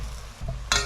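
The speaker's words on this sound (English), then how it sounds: "I will stir in." Spicy Korean instant noodles are stirred in a hot pan, giving a soft low scraping and light sizzle up close, with a brighter louder stir or splash near the end.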